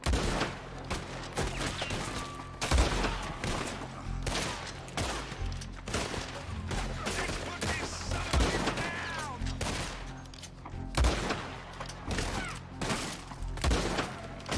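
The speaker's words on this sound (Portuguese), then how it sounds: "Preciso de 3 tiros de rifle pra matar o cara." Rapid rifle gunfire in Red Dead Redemption 2, sharp repeated shots and thuds over a dense game soundtrack, loud and continuous throughout.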